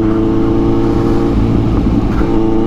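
A Kawasaki Z900 motorcycle fitted with a Racefit exhaust rumbles loud and close, holding a deep, throbbing idle with slight rises in revs.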